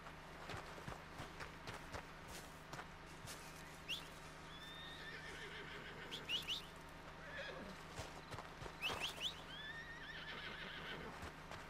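Horse in Red Dead Redemption neighs and whinnies several times while hooves clip-clop steadily underneath, fairly quiet, with no talking.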